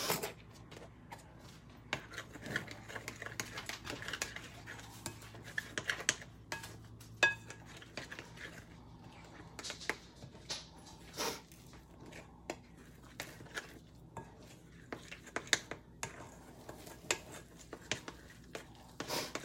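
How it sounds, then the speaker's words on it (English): A spoon scrapes and clinks through thick vegan chocolate muffin batter made with cocoa powder and flour, soft irregular taps and scrapes against the bowl repeating steadily, quiet and close with no talking. "stir with a spoon or spatula until just combined"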